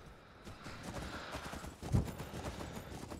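Horse hooves clip-clopping in the video game Skyrim with the Requiem mod, a soft steady run of hoofbeats with one brief louder thump midway, no voices.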